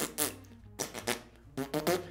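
Lips buzz in a trumpet embouchure, imitating a fart in several short, raspy bursts separated by brief pauses, close and fairly soft.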